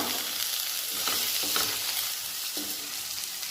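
A sizzling pan of cooked-down masala for chicken kofta curry, with chopped and whole green chillies just added, is stirred steadily, giving a continuous close fry with scrapes of the spoon.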